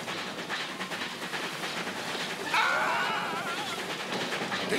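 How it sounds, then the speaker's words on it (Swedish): A departing train in a Lucky Luke cartoon with Swedish dubbing rattles and clatters steadily, then swells into a louder surge with a brief tonal whine about halfway through. "Tåget sticker iväg med vårt guld!"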